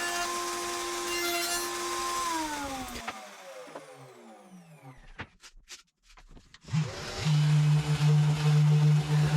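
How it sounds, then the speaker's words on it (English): A router bit plunges into a veneered bookcase shelf held against the fence on a router bench; a loud motor whine runs, winds down, then rises again with a strong steady tone. "plunging the shelf onto the bit against the fence on the router bench, worked best with minimal splintering of the veneer"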